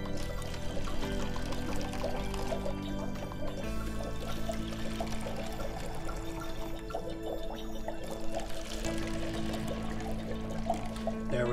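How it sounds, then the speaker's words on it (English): Water poured into cups, each filled about halfway for a carnation-dyeing science experiment, a steady continuous pour running throughout, close and moderately loud over a tonal background. "I will fill each cup halfway with water."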